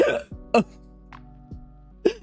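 A person hiccups several times, short sharp vocal catches at close range separated by brief pauses, with a low steady hum underneath.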